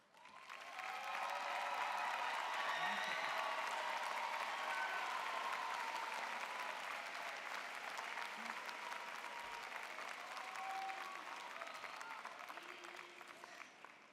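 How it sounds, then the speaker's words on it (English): Sustained applause from a large audience honoring graduates at a university spring commencement, a dense steady wash of clapping that swells quickly, holds strong for over ten seconds and tapers slightly near the end. "please join me one more time in applauding these outstanding graduates"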